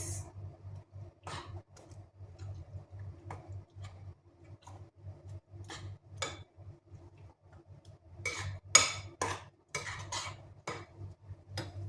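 A utensil clinks and scrapes against a bowl while cassava cake batter is mixed, with a steady rhythmic ticking stir, close and fairly quiet, with no talking.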